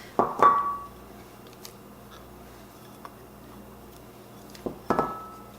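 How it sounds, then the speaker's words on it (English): Pasty filling ingredients and meat mixed together in a bowl, with a few sharp utensil clinks against the bowl at the start and again near the end, and quiet scraping between. "Just gonna mix all these ingredients together, put in the meat."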